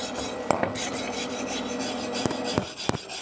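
A brush scrubs back and forth across a welded aluminium alloy sump, giving a close, continuous raspy rubbing with a few sharper strokes and no voices.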